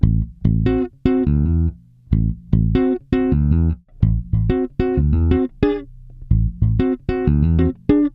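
A bass guitar riff, each root note hammered up into a perfect fifth, plays as loud, close plucked phrases with short gaps between the groups, with nobody speaking.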